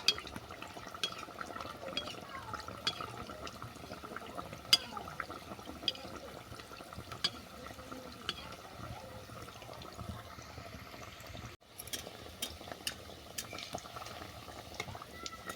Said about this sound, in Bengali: এবার চারিদিক থেকে এই গরম তেল টগরির মধ্যে দিয়ে দেবো